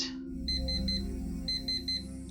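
An alarm clock goes off in the video game Actual Sunlight: two bursts of rapid, high electronic beeps, close and clear, over a steady low hum, with no talking.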